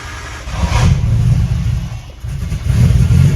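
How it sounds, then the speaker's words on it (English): A big-turbo Nissan Skyline R32 engine fires up for its first start, loud and close, with a rough lumpy idle that dips briefly and then rises again in throttle blips. "I'm gonna connect the ECU to the computer, and we can now start the car."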